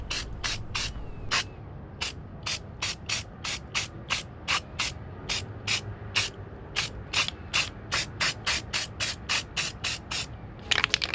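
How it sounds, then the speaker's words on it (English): Short, rhythmic bursts of spray paint hiss as a part off a project van gets resprayed, with about two dozen evenly spaced, close, loud pulses. "Since I have it off, I might as well respray this as well."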